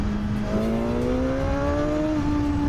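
Engine of a 2026 Suzuki GSX-R1000R sport motorcycle revving up, a steady rising tone climbing in pitch over a couple of seconds, loud and close with no talking.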